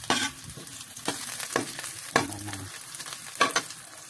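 Garlic sautéing in a pan for Filipino tinolang manok, a steady low sizzle broken by several sharp stirring scrapes and clinks, close up and without talking.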